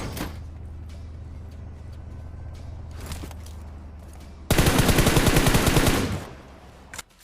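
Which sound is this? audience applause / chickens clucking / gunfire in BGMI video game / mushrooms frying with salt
gunfire in BGMI video game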